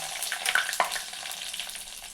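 Mustard seeds, urad dal and dried red chillies sizzle and fry in hot oil, a steady close crackle with a few sharper pops, with no voices over it.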